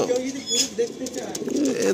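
Andhra pigeons of original bloodline, red-headed lalsira birds, cooing softly with brief wing flutters nearby, mixed with background voices and chatter.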